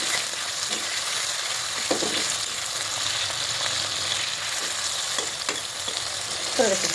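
Onion and tomato fry in a pan, giving a steady, close sizzle with occasional stirring scrapes, alone without talk.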